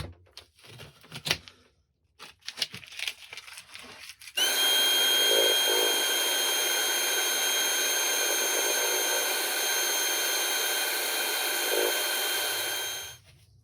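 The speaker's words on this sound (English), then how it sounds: "Right, we'll sand this lid very gently now." A wood lathe spins up and runs steadily for about nine seconds while a turned wooden mushroom box lid is gently sanded. There is a constant loud whir with faint scratchy texture, then it winds down.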